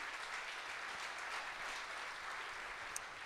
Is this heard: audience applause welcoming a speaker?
yes